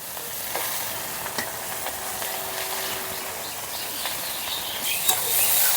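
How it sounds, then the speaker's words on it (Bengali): Water spinach and fried lentil dumplings sizzle with ginger paste and chopped tomato in a hot pan, a close, steady frying hiss with faint stirring clicks and no talk. "আর দিয়ে দিচ্ছি কেটে রাখা কলমির শাক।"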